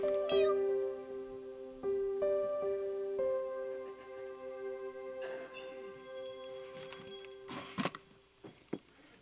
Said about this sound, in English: The kittens look all healthy to me.